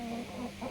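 A chicken in a henhouse gives a short run of low, throaty clucks, close and fairly loud, over a faint steady background hum.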